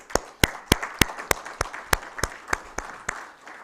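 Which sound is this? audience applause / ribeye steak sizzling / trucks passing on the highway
audience applause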